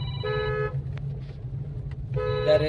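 Two bursts of a car horn honking on a narrow, partly unpaved side road near a housing society, separated by a pause, heard over a steady low engine hum from inside the vehicle.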